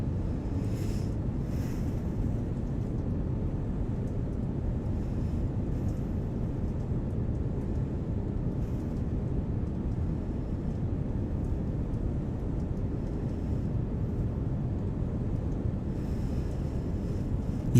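Airliner jet engines in Microsoft Flight Simulator 2024, stuck at full power, giving a steady, unbroken low roar and rumble that holds at even loudness throughout with no talk.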